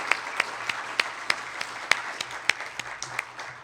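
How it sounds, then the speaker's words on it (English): Applause from a conference audience after a presentation, a steady wash of many hands with a few sharper claps standing out at a regular pace, near and fairly loud. "Another round of applause for the great presentation."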